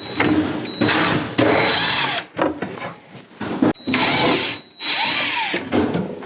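Power drill backing screws out of corner blocking under a kitchen cabinet, whirring in several loud close bursts with brief pauses between them.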